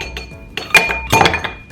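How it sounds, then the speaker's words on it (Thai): Three ice cubes drop into a large glass of coffee with caramel syrup: a few bright, close clinks and knocks in two quick bursts, with no talk. "จากนั้นก็จะใส่น้ำแข็ง3ก้อนนะคะ"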